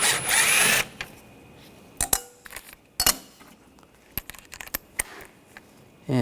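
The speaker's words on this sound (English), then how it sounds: "We're going to use a 7mm socket. Take those screws out." A power tool with a 7mm socket backs screws out of a 2013-2022 Buick Encore 1.4L during intercooler replacement; a long whir opens, followed by short bursts and scattered metallic clinks, close by and without speech.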